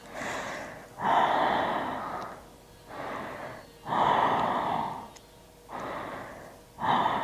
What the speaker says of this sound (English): Take deep breath